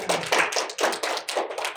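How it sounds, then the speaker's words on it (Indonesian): A group of students claps in a classroom during a physics microteaching lesson: several quick bursts of hand claps, close and fairly loud, with no talking over them. "Tepuk tangan dulu untuk yang menyimpulkan."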